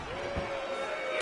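A butterfly suplex in the WWE 2K22 wrestling game lands as a dull thud against a constant electronic game tone, with a second impact near the end.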